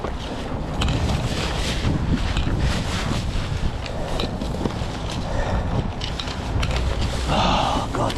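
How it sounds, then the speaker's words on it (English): Loud gusting wind buffeting the microphone outdoors, a constant low rumble and roar filling the whole stretch with no break. "Oh God, the bloody wind."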